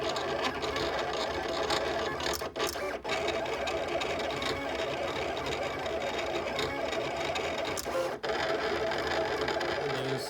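A Silhouette Cameo 4 cutting machine running with a pen holder fitted, giving a steady buzzing mechanical whir with brief pauses as it moves, heard continuously at close range.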